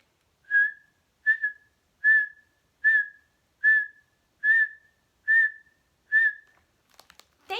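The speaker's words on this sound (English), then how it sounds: "Let's whistle to a steady beat." Eight evenly spaced whistled notes sound at a steady beat, each a short clear tone at the same pitch, close and alone in silence, followed by a faint brief rustle at the end.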